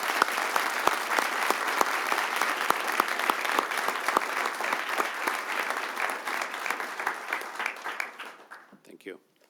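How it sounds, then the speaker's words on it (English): Round of applause from the audience at a city council meeting, a dense, sustained burst of many hands clapping that holds steady and then fades out over the last second or so. "I'd like to give her a round of applause"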